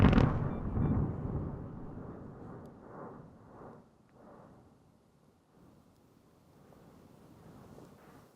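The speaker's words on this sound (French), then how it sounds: "Les éruptions avaient lieu environ toutes les heures, et chacune d'elles était littéralement à couper le souffle." A Guatemalan volcano erupts with a loud explosive boom at the start, then a long rolling rumble that fades gradually, mixed with wind buffeting the microphone and no voices.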